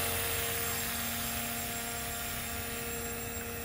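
An airboat hydroplane up on its plane, skimming across water during a test run, its engine and propeller giving a loud, steady drone that holds without a break.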